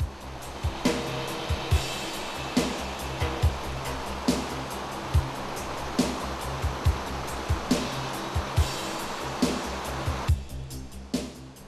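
Rushing river rapids on the upper Progo river pour in a dense, continuous roar, broken by regular sharp knocks from nearby, then the roar thins near the end.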